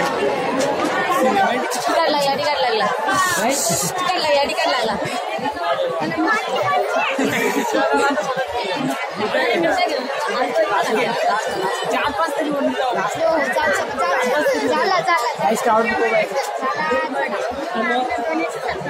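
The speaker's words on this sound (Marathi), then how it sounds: "गाईज, क्राउड खूप आहे." Dense crowd chatter fills the grounds of the Ekvira temple festival, many overlapping voices talking at once, loud and unbroken from start to finish.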